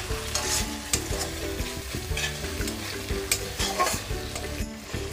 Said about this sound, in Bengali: দিয়েও এবারে আমি বেশ ভালো করে নাড়িয়ে চাড়িয়ে মশলাগুলোকে কষিয়ে নেব।